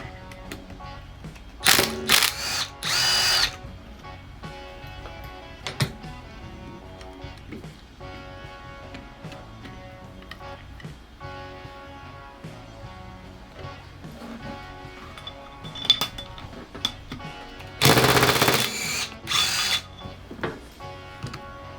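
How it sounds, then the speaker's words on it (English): A small impact wrench with a long 6mm Allen socket undoing the damping rod bolt on a 39mm fork from a 1999–2005 Harley-Davidson Dyna: several short, loud rattling hammering bursts separated by quieter workshop clicks. "I'm going to take a long 6mm Allen socket on a little impact and undo the dampening rod bolt."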